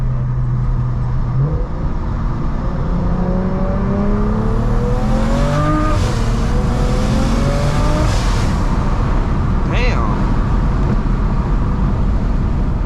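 Single-turbo BMW 335is heard from inside the car, with a loud, steady engine drone under acceleration, rising tones through the gears and a clear turbo whine climbing above it.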